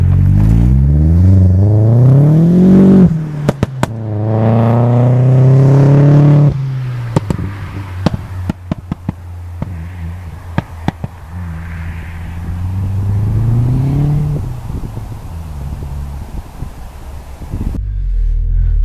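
Opel Astra MK4 turbo sleeper pulls hard on the road, its engine note climbing steeply through repeated gear changes with sharp breaks between pulls, loud and close throughout with clattering transients.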